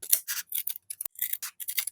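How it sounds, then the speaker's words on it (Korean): Scissors trimming a fabric seam allowance on a zipper shoulder bag, giving a quick series of crisp, close snips and rustles. "시접을 1cm 남기고 잘라줍니다"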